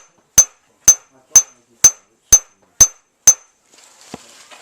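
Seven sharp, evenly spaced hammer blows ring out as a hammer peens and thins the edge of a metal piece in cold forging, each strike a bright metallic clang, followed by a faint scrape.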